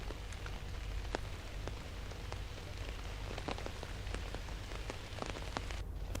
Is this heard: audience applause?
no